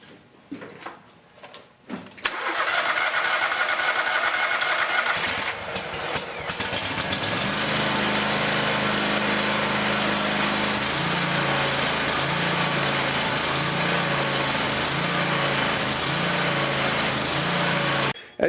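A Kohler Command engine on a Scag Tiger Cat zero-turn mower starts after a short crank and then runs loud and steady at full throttle, holding a constant high roar close by until it cuts off at the end.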